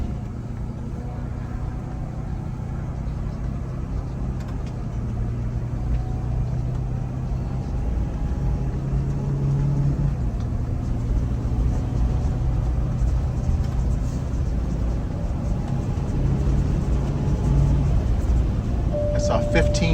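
A heavy, overweight bus with a newly fitted turbocharger is driven with the engine floored, giving a steady loud low rumble and drone from inside the cabin that holds on throughout.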